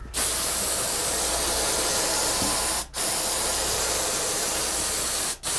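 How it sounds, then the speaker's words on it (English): Clear coat sprays from an aerosol can onto a large freehand-carved wooden cabin sign, a loud, steady, close hiss broken by two brief pauses. "we are going to clear coat this thing all over"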